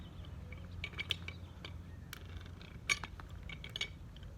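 A wrench works a fitting on a sprinkler line, giving faint, scattered metallic clinks and taps over a low steady background hum, with no talking.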